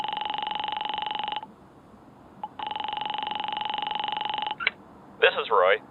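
A telephone sound effect with two long steady electronic tones separated by a pause, then a couple of short blips and a warbling burst, close and clear over faint background hiss.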